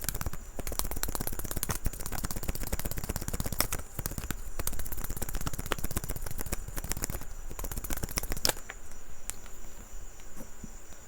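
Tarot cards are shuffled in a long, dense run of rapid papery riffling and flicking, loud and close. The shuffling stops near the end and quieter handling follows.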